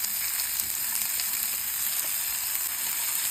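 Onions frying in a pan, giving a constant dense sizzle and hiss at close range, even in loudness across the whole stretch with no talking.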